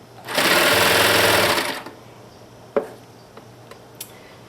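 A serger running two needles and four threads stitches through plush minky fabric in one loud, steady mechanical whir of about a second and a half, followed by a few faint clicks and taps.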